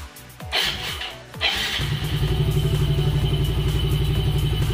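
A Yamaha Mio i 125 scooter engine idling to warm up after CVT cleaning, a close, steady, rhythmic low putter that settles in after a couple of seconds of clatter, with no talking.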